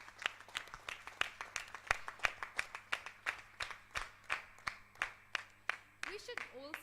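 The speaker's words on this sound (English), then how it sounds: "Please give a round of applause for all the teachers standing here." An audience at Gokulam Public School gives the teachers a round of applause. Sharp, distinct claps fall in a steady, rhythmic beat at moderate loudness against a quiet hall.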